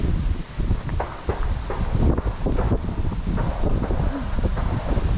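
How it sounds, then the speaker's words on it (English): Strong wind roars and buffets the microphone continuously, with gusty low rumbling throughout and no voices. "Very windy up here."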